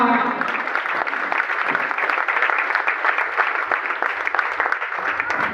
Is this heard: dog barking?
no